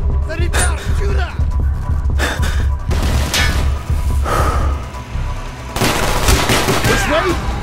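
Bursts of automatic gunfire in a Call of Duty Black Ops firefight, loud and close, coming in several sustained volleys separated by brief lulls, with shouted voices and gasps mixed into the chaos.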